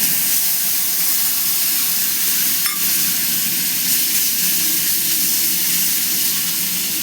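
A ground paste of garlic, onion and red chili sizzles loudly in a hot pan for a prawn curry, with a dense, continuous hiss and faint stirring scrapes beneath it.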